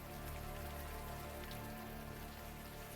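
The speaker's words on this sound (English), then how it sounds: "the warm rain is coming down" Warm rain falls in the game Unavowed, a dense, even hiss of drops on surfaces that holds steady and soft throughout with no voices over it.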